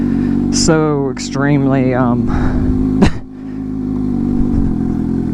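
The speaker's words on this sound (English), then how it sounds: "Now, these are dirt roads, so this is dangerous on a sport bike." A Suzuki GSX-S750 sport motorcycle rides along a dirt road, its engine droning steadily beneath loud talking, with a sharp clunk midway.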